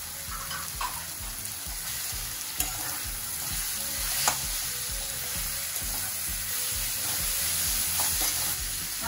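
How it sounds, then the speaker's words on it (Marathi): Sliced cabbage stir-frying with noodles in a pan for veg Hakka noodles, a steady close sizzle with rhythmic scraping of the spatula and occasional clinks, continuous and without talk. "आता यामध्ये आपण लांब लांब कापलेला कोबी घालून घेऊया."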